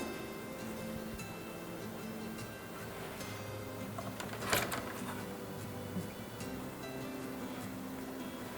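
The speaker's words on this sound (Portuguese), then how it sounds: "agora eu vou costurar um lado, a parte do tecido de fora" A sewing machine stitches fabric for an Easter gift bag, producing a quiet, steady mechanical whir with fine rapid ticking and a brief louder clatter midway.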